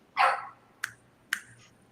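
A dog lets out one fuller bark followed by two short sharp yips, close by in a quiet room with no talking.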